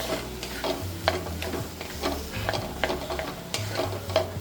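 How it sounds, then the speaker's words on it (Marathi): Spiced potato filling sautéed and stirred in a pan, a steady sizzle with repeated scraping strokes of the spoon at an even rhythm, close and continuous. "आता बटाटा आपल्याला जास्त परतायचा नाही आहे, फक्त त्याचा मसाला एकसारखा करून घ्यायचा आहे."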